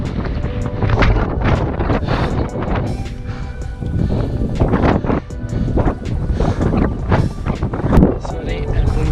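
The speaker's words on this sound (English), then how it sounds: "Very windy." Strong gusty wind buffets the microphone during a touring bike ride, in loud, uneven rumbling bursts throughout, with no let-up.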